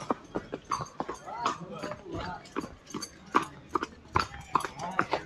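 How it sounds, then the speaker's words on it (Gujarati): Horses are led on foot near a temple stable at Suraj Deval Mandir near Chotila, their hooves clip-clopping in a steady uneven rhythm at close range, with someone talking over the steps. "લોકો આ જગ્યા ઉપર આ રીતે ઘોડાઓ લઈને આવતા હોય છે"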